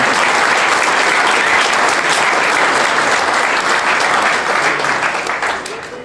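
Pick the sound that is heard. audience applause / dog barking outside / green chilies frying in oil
audience applause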